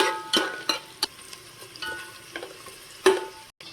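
Onions frying in a pan for mutton pulao, a soft steady sizzle broken by several sharp scraping stirs of a spatula, close and alone with no talk.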